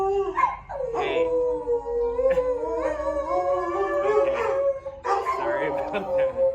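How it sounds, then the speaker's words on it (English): Dogs howling and yipping along with a passing ambulance siren, long wavering howls rising and falling together, loud and close, with a person talking briefly. "the dogs do that when there's a paramedic going by."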